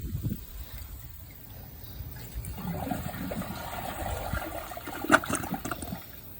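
A Project Source Pro toilet flushes with a dish towel in the bowl, giving a steady rushing and gurgling of water that swells midway and ends in a brief sharp clunk near the close, with no talking.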